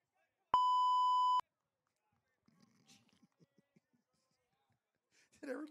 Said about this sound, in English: I'm glad I have a beep button because I needed it right there.